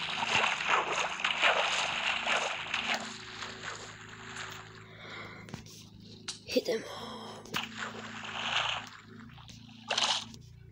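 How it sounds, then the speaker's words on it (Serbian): A boat glides across water in the video game Minecraft, with soft sloshing and paddling splashes that run under a young player's talk and a few gasps, plus brief blocky game effects. "eno ga moj brod je tamo"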